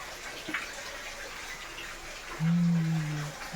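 Continuous wash of flowing water from a hidden waterfall at Jogimatti, soft and steady, with a brief low hum rising near the end.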